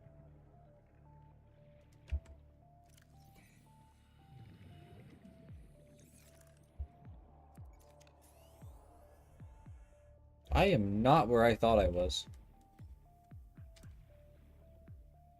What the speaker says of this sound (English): I don't know if you guys heard that. That was a Reaper.